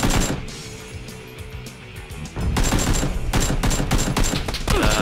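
Rapid bursts of AK rifle fire in a first-person shooter game, with close, loud automatic volleys that stop briefly and then resume as dense, sustained shooting.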